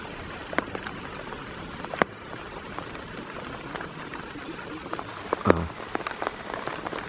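Rain falls steadily on a surface outdoors, with scattered close drips and taps over a soft continuous patter and one louder splash near the end.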